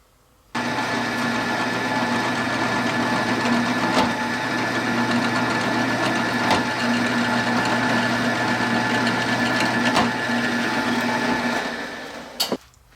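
Power drill boring a 3/16 inch hole through an ABS plastic GoPro mount blank, a steady close motor whine that starts abruptly, holds for about twelve seconds, then cuts off with a brief knock at the end.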